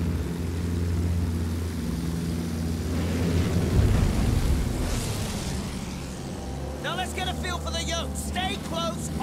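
A propeller plane drones steadily in the Battlefield 1 video game, its engine holding a continuous buzzing hum throughout, with a voice speaking over it near the end.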